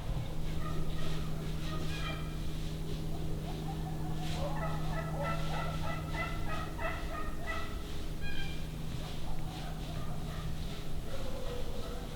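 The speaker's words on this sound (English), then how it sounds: "Yeah, there's turkeys right below me." Several wild turkeys gobble in repeated bursts at a moderate distance, over a steady low hum of outdoor background noise in hilly country.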